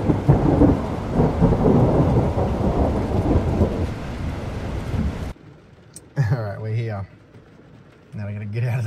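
Heavy rain and a low rumble of thunder roar for several seconds, heard from inside a car, then cut off abruptly to quiet, with voices talking in short bursts afterward.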